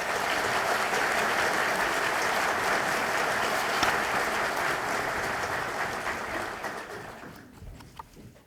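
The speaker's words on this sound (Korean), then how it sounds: "박수 한번 보내주십시오." A large audience at a Korean Ministry of Justice gathering gives the acting vice minister a full round of applause. The clapping is steady and dense for about seven seconds, then thins and fades out.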